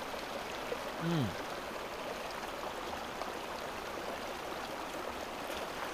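Cold mountain stream of fresh water rushing at its source, a steady broadband burble close by, with a brief voiced sound partway through.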